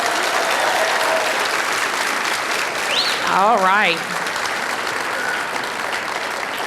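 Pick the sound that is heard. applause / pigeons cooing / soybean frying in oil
applause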